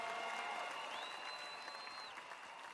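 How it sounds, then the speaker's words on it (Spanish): Audience applause at a church worship service, a dense, continuous wash of clapping from a crowd, fairly distant and steady, with a sustained tone ringing through it. "El aplauso dáselo al Rey de Gloria"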